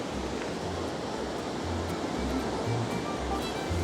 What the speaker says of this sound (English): we're running into some nifty little cool waterfalls here